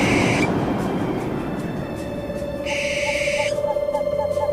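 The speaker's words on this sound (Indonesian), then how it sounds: "mengapa ada banyak sekali burung hantu?" Several owls hoot in an animated adventure story, soft repeated hoots spaced evenly over a continuous background rumble and bright ambient tones, with no talk.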